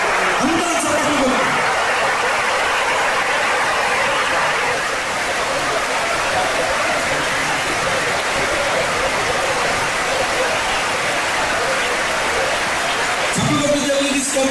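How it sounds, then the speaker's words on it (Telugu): A church congregation applauding at a sermon, dense sustained clapping from many hands that fills the space, loud and even throughout, with a voice briefly heard at the start and end. "అందరూ చప్పట్లు."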